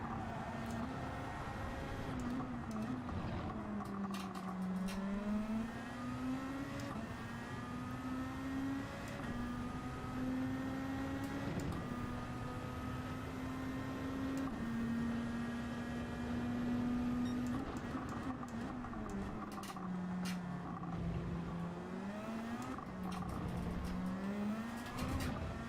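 A race car engine in Gran Turismo 7 revs and drones steadily under throttle, pitch rising and dipping through gear changes and lifts, loud and continuous for the whole stretch.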